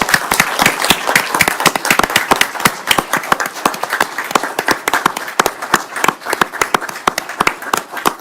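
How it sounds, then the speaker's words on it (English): An audience at a city council meeting claps in a dense, lively burst of applause. Many hands are heard up close and continuously for several seconds, with no one talking over it. "Could we please have a round of applause for Bill?"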